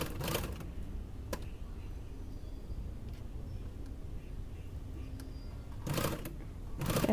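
A sewing machine runs a straight seam on a zipper pouch in short bursts of rapid, clattering stitching at the start and end, with a quiet steady hum in between.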